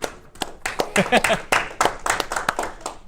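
Students in a Photoshop class clap together in a short burst of distinct, irregular hand claps close by, with some talk mixed in.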